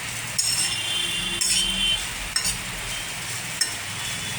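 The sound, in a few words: stirring chira pulao with peanuts and raisins in pan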